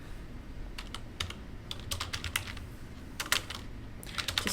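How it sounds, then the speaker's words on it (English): Typing on a computer keyboard during a game stream, quick irregular bursts of clicky keystrokes in short clusters with brief pauses, close and fairly quiet against a low background hum. "Just typing in something here."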